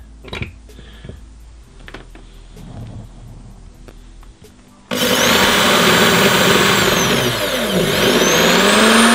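A power drill bores through the metal floor of a VW Crafter van conversion, starting abruptly after a quiet stretch as a loud, steady grinding whine whose pitch sweeps up and down as it cuts.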